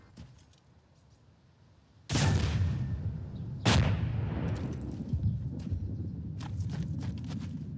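Gunfire in Arma 2, two loud booming shots a second or so apart, each followed by a long rolling echo, then a few fainter distant cracks trailing off.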